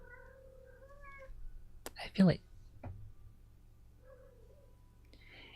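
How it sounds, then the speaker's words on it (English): A cat gives a few high, warbling meows in the background during a birthday livestream, interleaved with a person's speech, and a sharper, louder yowl rises in the middle. "you guys may occasionally hear a cat in the background."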